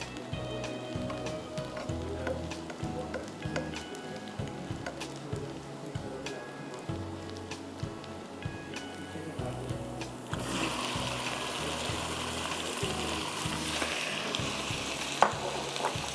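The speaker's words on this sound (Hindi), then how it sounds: "गार्लिक अच्छा सा होने लग जाए तो आप इसमें फ़िश डाल दें।" Fish fry with garlic in a hot pan, a loud continuous close sizzle with stirring scrapes that grows brighter and more intense partway through.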